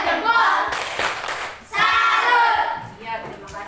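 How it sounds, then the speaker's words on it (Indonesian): A group of students in a classroom gives a round of tepuk salut applause, two bursts of hand-clapping separated by a short pause, with voices talking over and between them. "Kasih tepuk salut dulu dong untuk kelompok 2"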